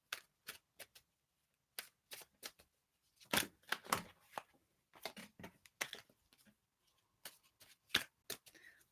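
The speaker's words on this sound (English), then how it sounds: "Patsy, I'm going to shuffle them again." A deck of tarot cards is shuffled close up in quiet surroundings, with bursts of crisp riffling and tapping clicks separated by short silences. No one talks.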